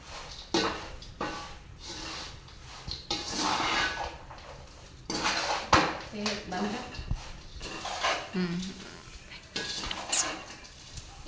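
A metal ladle scrapes and stirs through flattened rice in a pan in repeated strokes, close by, with someone talking over it.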